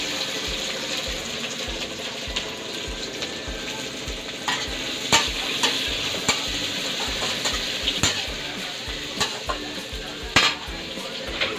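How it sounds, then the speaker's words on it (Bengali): Chopped onion goes into hot oil for a home-cooked chowmein, sizzling in a steady broadband hiss with soft stirring scrapes and a few sharper clinks of a utensil against the pan. "চলো তেল হয়ে গেছে, পেঁয়াজটা দিয়ে দিই।"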